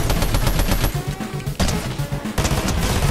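Rapid automatic gunfire from a shootout against an enemy player in Fortnite, loud and sustained in dense bursts with a brief lull near the middle before the firing resumes.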